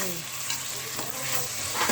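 Chopped tomatoes sizzle and crackle in a hot pan for chicken gravy while a utensil stirs and scrapes through them, a steady close frying hiss with no talking.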